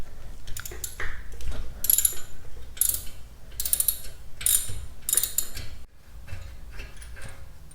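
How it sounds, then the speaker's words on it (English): Ratchet wrench loosening the lower front brake caliper bolt on an Alfa Romeo Giulia, a few bursts of rapid close clicking separated by pauses, loud and near with no talk. "First, loosen the lower bolt."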